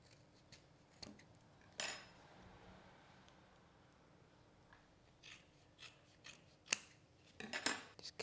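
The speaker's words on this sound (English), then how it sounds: "it's worth cutting both ends just to get a bit of air into there." Blade snipping open both ends of a silken tofu packet: a few quiet, separate plastic cuts and crinkles spaced out, with a brief cluster of sharper snips near the end, no voices.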